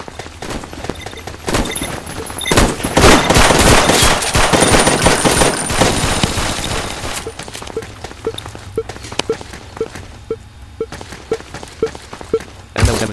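5.56 mm rifle gunfire in a video game, a dense sustained burst of rapid shots that thins into scattered single cracks and clicks, loud and close.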